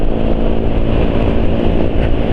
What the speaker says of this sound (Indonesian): ketika sudah mulai berangkat itu pun sudah kasar suara mesinnya